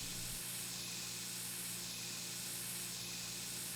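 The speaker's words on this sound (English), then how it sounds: "And then we got the Mozzie spray." A steady, loud hissing spray of mosquito repellent from an aerosol can in the My Summer Car video game, continuous and unbroken throughout with no talk.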